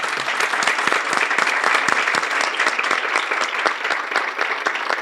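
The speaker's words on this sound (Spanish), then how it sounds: "ahora sí, aplauso para todas." An audience at a women entrepreneurs' forum gives dense, energetic applause, many hands clapping together in a continuous, loud burst with no speech over it.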